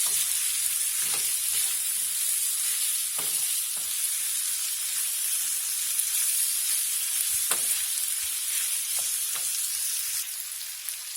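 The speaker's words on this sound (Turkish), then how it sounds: "2 dakika kavuralım böyle" Meat sizzles and crackles while it is sautéed in a pan, a loud, steady frying hiss with occasional sharper pops and stirring scrapes, continuous throughout with no talking.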